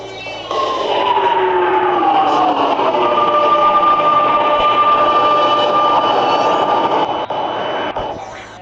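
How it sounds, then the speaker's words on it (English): An automatic subway train in a Roblox video game pulls into a platform with a loud, sustained rushing roar and gliding motor whine that holds steady for several seconds before cutting off. "The train is now arriving for Sky Media."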